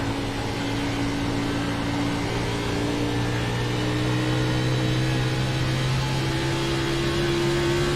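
A NASCAR race car doing donuts on the infield at Homestead: a loud, continuous engine drone whose pitch drifts slowly upward, steady throughout with no pauses.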